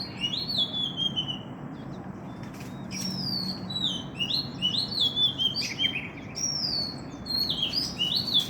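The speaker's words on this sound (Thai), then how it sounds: "นกก็ร้องเพราะเสียงนก จะเป็นนกกังเขนนะครับเพื่อนๆร้องเพราะมาก ๆ" Bright, melodious whistled phrases of a songbird, an oriental magpie-robin, repeat over a steady outdoor background hiss, fairly close and clear.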